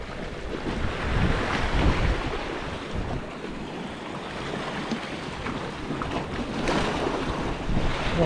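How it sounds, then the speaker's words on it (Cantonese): Strong wind buffets the microphone while waves slap and surge around a fishing boat at sea, a loud continuous roaring wash with gusty swells and no speech. "呢個大風啊！"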